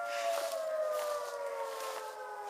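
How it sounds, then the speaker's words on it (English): A wailing siren sounds continuously, its tone sliding slowly downward, steady and moderately distant with no voices. "Oh, I wish I would get rid of that siren."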